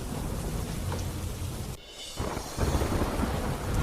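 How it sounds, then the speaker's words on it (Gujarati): Heavy rain pours steadily in Chandauli, Uttar Pradesh, broken midway by a brief hush and then a deep rumble of thunder as the downpour returns louder. "વીજળીના કડાકા ભડાકા સાથે વરસાદ"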